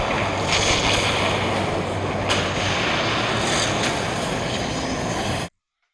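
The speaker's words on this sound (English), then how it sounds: "Here we are at beautiful Horsetail Falls, once again in the beautiful Columbia River Gorge" Horsetail Falls in the Columbia River Gorge gives a steady, dense roar of falling water that continues unbroken and fairly loud, then cuts off abruptly near the end.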